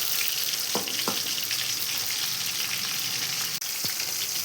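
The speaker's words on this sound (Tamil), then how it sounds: "கொஞ்சம் கொஞ்சமாக போட்டு பொரிச்சு எடுத்துக்கலாம்" Anchovy fish frying in hot oil gives a steady, loud sizzle throughout, with a few faint clinks of a utensil against the pan.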